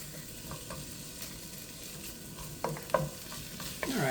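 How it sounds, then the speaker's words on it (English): Onions sautéing in a single pan for Italian sausage and rice: a soft, steady sizzle with a few sharper spatula scrapes and clinks toward the end, close and faint, with no voices. "We just sauteed that for, a minute or two. It's just so you can see the onions starting to get translucent."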